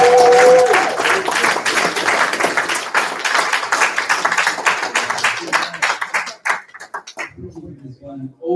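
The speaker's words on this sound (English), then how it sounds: "we can get another round of applause for the House of Reawakening Minds" An audience applauds, a dense spread of clapping that runs strong for several seconds and then thins out and fades into scattered claps near the end.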